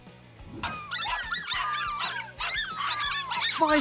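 Five dogs cornering a lizard let out a rapid run of excited yips, whimpers and barks, close and continuous, overlapping one another with no talk.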